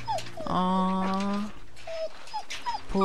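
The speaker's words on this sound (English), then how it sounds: "Poor dog." A dog in The Walking Dead video game whimpers and yips in short, high, rising and falling cries that repeat close by, mixed with one longer whine.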